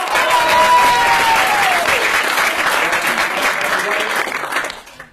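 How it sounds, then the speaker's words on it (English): An audience at a mentalism parlour show claps for the final volunteer, a steady dense round of applause with a faint tonal whistle drifting over it, tapering off near the end. "a round of applause for our final keeper."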